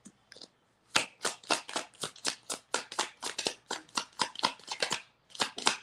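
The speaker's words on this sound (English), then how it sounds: "My hair is tickling my lip as I shuffle the cards." Tarot cards are shuffled up close in a quick series of crisp riffling flicks, each one sharp and distinct, repeating steadily after a brief pause at the start.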